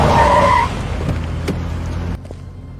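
A car skids briefly with a tire squeal and engine noise in the first half second, followed by quieter rumbling road noise and a faint thump near the end.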